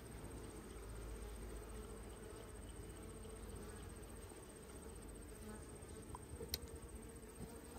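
Honeybees buzz continuously around an open beehive outdoors, a dense steady drone with a faint high whine over it, with one brief click near the end.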